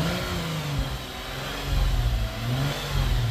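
A Lexus GS350 V6 with an aftermarket axle-back exhaust idles and then rises through a few moderate revs, giving a deep but not loud tone heard close by.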